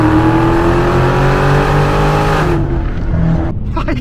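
Dodge Scat Pack V8 engine revving hard under acceleration, a loud rising roar that holds strong before easing off and dropping away near the end.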